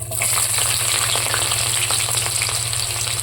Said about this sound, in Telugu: నూనె వేడైంది తాలింపులు వేసుకోవాలి పెచ్చిని వేసుకోవాలి చిన్నగా తరిగిన ఉల్లిపాయ ముక్కలు వేసుకోవాలి